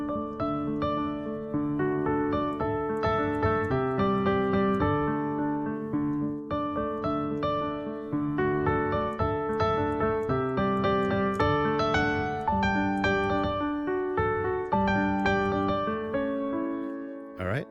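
Solo piano playing the melody of a familiar song over chords, a full, steady stream of struck notes at close range with no voices.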